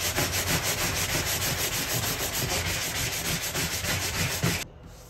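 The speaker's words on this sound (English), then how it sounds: "So we're going to go with the 120 grit sandpaper." A fiberglass bathtub is sanded by hand with 120 grit sandpaper, giving steady rhythmic back-and-forth scratchy strokes that continue close up for several seconds and then stop abruptly.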